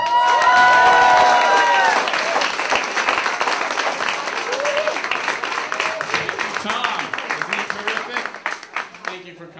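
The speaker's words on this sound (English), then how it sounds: "big round of applause for Mr. Robert Penner" A comedy theater audience at the Camino Real Playhouse applauds and cheers a stand-up comedian, loud dense clapping with whoops, tapering off near the end.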